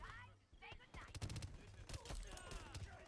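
Pistol shots in the Shatterline video game PvP, several sharp bursts in rapid succession with a brief quiet stretch before them, mixed with game sounds and other effects.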